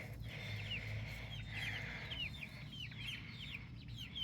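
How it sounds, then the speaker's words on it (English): Nine lavender Orpington chicks, almost seven weeks old and out in an open garden for the first time, chirp and cluck in a steady scatter of high calls over a soft outdoor background. "We've got 9 lavender Orpingtons, and they came outside for the first time yesterday."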